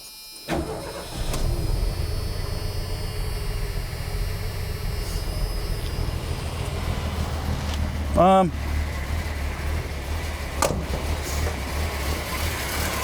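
A 1984 Ford F-150 short-wheelbase 4x4 pickup idles steadily with a low, continuous engine rumble throughout, close by, with a brief whirring rise partway through.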